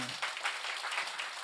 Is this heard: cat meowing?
no